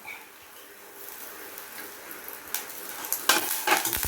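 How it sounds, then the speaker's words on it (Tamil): Garlic sizzles in hot oil as it browns, with curry leaves frying crisp alongside it; a steady soft crackle swells into louder pops and spatters, with a few stirring scrapes near the end. "நல்லா பூண்டை ப்ரௌன் கலரில் நல்லா வறுத்துட்டு கருவை விடாமல் கருவேப்பிலை"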